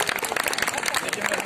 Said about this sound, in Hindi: आपकी तालियां कमजोर पड़ रही हैं